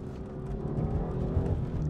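Engine of a Dinan-tuned 550hp BMW M4 running on the road, a steady, fairly loud low drone with a slight rise in pitch as it pulls, heard alone without talk.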